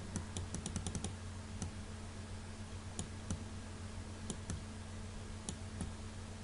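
Mouse or keyboard clicks at a computer while editing a photo in Adobe Photoshop 7.0, sharp isolated ticks in small bursts and single taps over a quiet, faint room hum.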